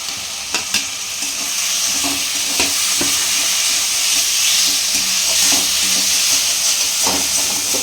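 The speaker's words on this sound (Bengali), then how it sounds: "এরপর আমি ভাজা যে আলুটা ছিল সেটা আমি দিয়ে দেবো।" Fried potatoes go into a hot pan of spiced gravy for raw banana kofta, bringing loud continuous sizzling with repeated clinking stirs of a spoon, close and steady, no voices.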